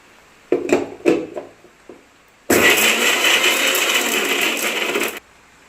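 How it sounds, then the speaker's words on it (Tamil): A few short clattering knocks, then a mixer grinder whirs loudly and steadily for about three seconds, grinding soup ingredients, before cutting off. "மிக்சியில் போட்டதெல்லாம் அரைச்சி எடுத்துட்டோம்"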